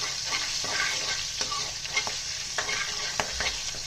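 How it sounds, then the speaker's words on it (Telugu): Slit green chillies, curry leaves and asafoetida sizzling in hot oil in a pan, a steady bright crackle broken by occasional stirring scrapes. "బాగా వేగనివ్వాలండి."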